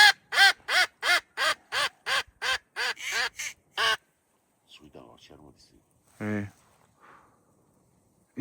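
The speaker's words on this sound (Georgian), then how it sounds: "ის წეროს ხმა იყო." Cranes call over Paliastomi lake during a hunt: a rhythmic run of about ten loud, harmonic calls, followed by a few fainter scattered sounds and brief voices.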